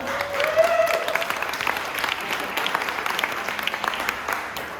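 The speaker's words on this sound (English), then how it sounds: "A round of applause for Mox." Audience applause for Mox at a book launch event, a steady dense clapping wash at moderate volume that holds for about five seconds, with a faint voice briefly above it near the start.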